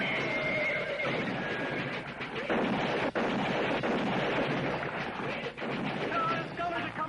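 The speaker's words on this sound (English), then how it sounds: "The horses are running away!" Horses whinny and neigh loudly in a frontier wagon-train scene, with hoof clatter and a dense, busy background of commotion running throughout.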